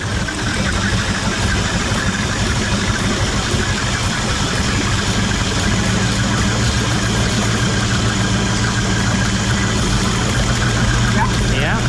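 A Mercruiser Magnum engine in a Mariah Z241 Davanti boat runs under a little throttle, a loud continuous rumbling drone with dense clatter throughout, close and steady, with voices mixed in.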